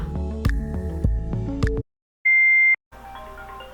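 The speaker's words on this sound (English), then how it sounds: "Why is my phone ringing?" A phone rings in a home setting: a steady electronic tone sounds alone for about half a second after a sudden silence, while music plays before and faintly after it.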